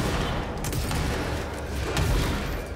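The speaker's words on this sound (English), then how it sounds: "you can use your big explodey gun and destroy all of it" Explosive gun fired in the video game Control: AWE during close-quarters combat, giving a couple of loud booming blasts over a dense, continuous wash of gunfire and game noise.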